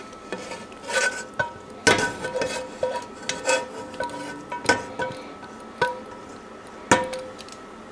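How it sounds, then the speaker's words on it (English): A spoon scoops fried mushrooms into mashed potatoes in a pot, giving a run of close, irregular clinks and soft squishy scrapes against the metal, with short pauses between scoops. "I'll switch from the masher to a spoon and just get the mushrooms in"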